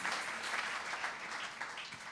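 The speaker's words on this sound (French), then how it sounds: "Est-ce qu'on peut applaudir pour cette foi que j'ai?" Congregation applauding during a Sunday church service, a steady patter of many hands clapping at moderate loudness, fading slightly toward the end.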